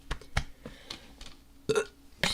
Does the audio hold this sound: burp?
yes